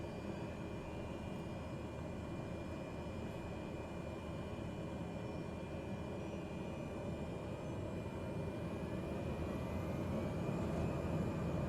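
Cessna 208B turboprop starting up in Microsoft Flight Simulator, a steady droning engine hum with a faint high whine that slowly climbs as it spools, continuous and moderately loud.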